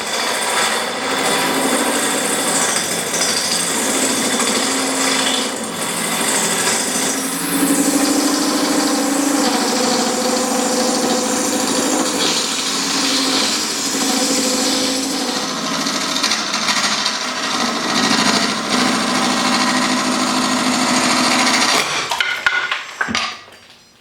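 Carbide tools cut an acrylic tube spinning on a wood lathe, making a continuous loud scraping hiss with a steady motor hum. The sound holds for over twenty seconds, then stops abruptly.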